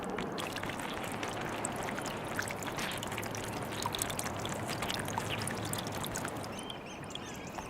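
Running water trickles and splashes over rocks on the tidal beach at Hilbre island, a soft, continuous close-up babble with a faint low hum underneath, fading slightly toward the end.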